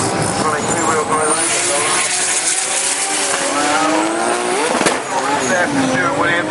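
A nitrous-fed turbocharged drag race car roars loud and high-pitched at Santa Pod, its engine note rising and sweeping steadily, with a commentator talking over it.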